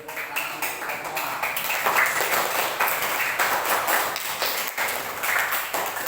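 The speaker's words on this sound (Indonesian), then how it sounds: "Beri tepuk tangan semua." Students applaud together in a primary-school classroom during a science lesson on photosynthesis, a dense, steady wash of many hands clapping that lasts the whole stretch with a few sharper individual claps standing out.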